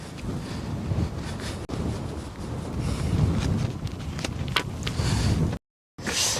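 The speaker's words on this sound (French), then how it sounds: "Donc le vent se lève de plus en plus et il fait de plus en plus froid" Gusty, rising wind on a cold, muddy day outdoors buffets the microphone in a steady roar that swells and rises, with a few brief knocks and a short dropout near the end.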